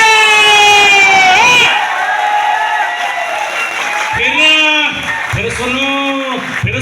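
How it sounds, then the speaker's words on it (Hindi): A crowd at a direct selling gathering cheers and shouts loudly for the guru, with raised, drawn-out voices rising and falling over steady crowd noise and people talking. "ये तालियां जोरदार यूं ही बजती रहनी चाहिए"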